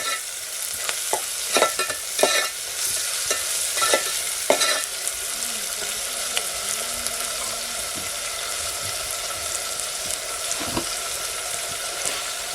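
A spoon scrapes and stirs poha in a frying pan, several distinct clinks over a steady sizzle and hiss.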